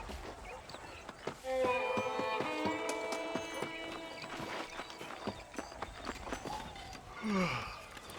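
Horse hooves clip-clop in the Red Dead Redemption video game, a steady rhythm set under sustained music tones and a closing whinny-like sweep, with no talk over it.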